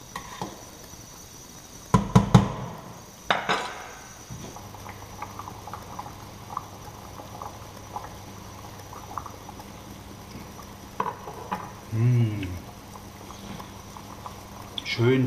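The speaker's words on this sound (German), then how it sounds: "das Trabatschka kocht schön auf hier" A pot of Hungarian potato dumplings (sztrapacska) simmers with a steady low bubbling and a few sharper clatters near the start, heard close up throughout.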